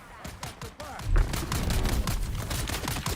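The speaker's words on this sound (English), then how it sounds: "what's all this shooting going on? Who are they shooting at?" Scattered gunfire in the video game Dune Awakening, with a rapid series of sharp shots and bursts that come moderately close over steady background game noise.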